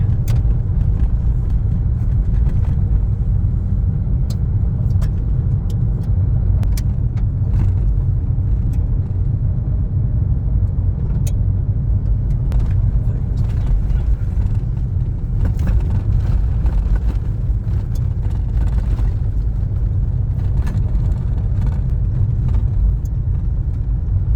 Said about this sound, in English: Bitumen has changed to a gravel track.